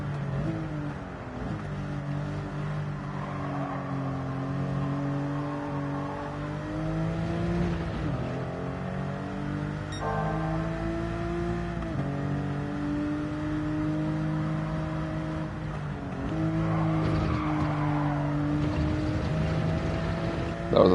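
A 1995 Porsche 911 Carrera RS (993), non-turbo, cornering with its engine droning and revving up and down through gear changes, loud and close from the cabin for the whole stretch.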